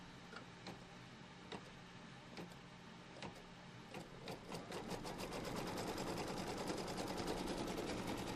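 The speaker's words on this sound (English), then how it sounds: "now it's going to stitch a line from here to here" An embroidery sewing machine stitches a line for a Pumpkins & Potions quilt block, a quiet rapid ticking and whirring that speeds up into a denser, steadier run partway through.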